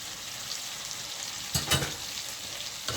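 Fish dropped into a pan of frying onions and tomatoes, a steady close sizzle with a brief burst of louder clattering stirring midway and another scrape near the end.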